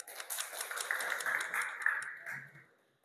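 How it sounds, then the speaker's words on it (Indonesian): Short burst of classroom applause from a group of students, a steady patter of many hands lasting a couple of seconds before fading out to near silence. "boleh tepuk tangan"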